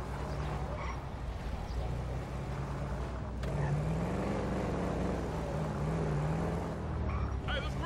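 Car engine idling and rumbling at low revs in GTA V while being parked in a garage, steady and fairly close, with a brief tonal rise midway and a voice talking over it.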